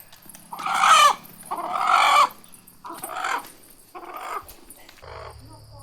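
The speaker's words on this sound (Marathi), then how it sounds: "तर कोंबडा पकडला आम्ही, त्यांनी आम्हाला दमवलं" A village rooster crowing in loud, drawn-out calls, followed by shorter clucking bursts, close by with a faint low hum underneath.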